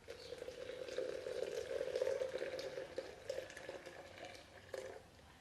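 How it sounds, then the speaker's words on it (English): Heated milk poured into a French press gives a faint, steady liquid gurgle that swells and then tapers off, with a brief splash near the end. "So we're just going to pour the milk in instead of water."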